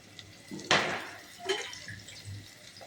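Water poured from a container into rice in a pot, 200 grams of it for tomato rice, giving a short close splashing pour followed by a few fainter trickles and drips.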